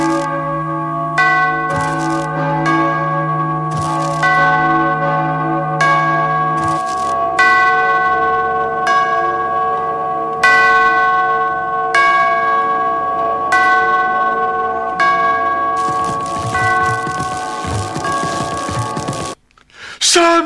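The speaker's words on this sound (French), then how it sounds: "Après avoir fait sonner les cloches, les horloges des clochers vont annoncer les heures du matin, de midi et du soir." Church clock tower bells ring in a steady sequence of resonant, overlapping strikes that fill the space, sustained and loud, ending abruptly near the close.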